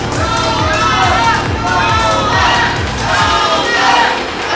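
A crowd at a wrestling event cheers and yells loudly and continuously, a dense roar of voices with shouts and rhythmic thumping beneath, close and sustained throughout.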